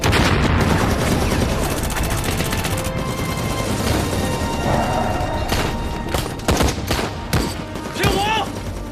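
Rapid gunfire rattles through a dramatic battle scene in a period war drama, dense overlapping bursts and shots under a loud, busy mix, with shouted voices breaking in toward the end.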